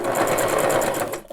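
A sewing machine stitches across a three-layer fabric face mask, running in a fast, steady close-up burst that stops abruptly near the end.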